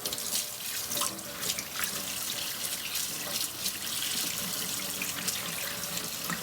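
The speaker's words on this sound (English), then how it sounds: "Now I can wash my hands." Running tap water at a kitchen sink while hands and forearms are washed, a steady close splashing hiss with small shifts in the flow throughout.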